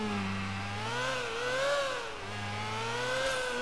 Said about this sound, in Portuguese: Esse barulho de moto aqui é muito esquisito, cara. Barulho agudo